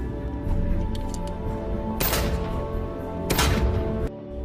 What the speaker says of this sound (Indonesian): John mengajak Maria latihan menembak.